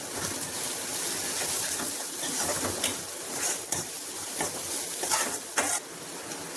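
Ginger and garlic quietly sizzling and frying in a pan with occasional stirring scrapes and clinks, steady and close, no talking.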